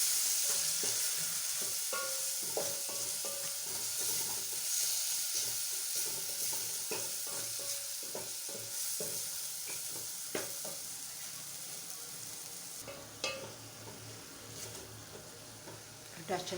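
Chopped onions sizzle and fry steadily in hot oil in a pan, with repeated scraping stirs of a spoon throughout and a brief louder clatter near the end.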